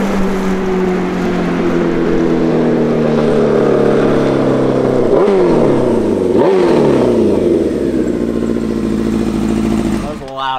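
A 1993 Honda CBR 900 RR motorcycle engine running loud and close, holding a steady rumble, then revving up sharply twice before cutting off abruptly.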